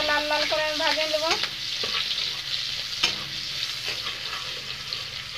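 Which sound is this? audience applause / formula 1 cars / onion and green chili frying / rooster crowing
onion and green chili frying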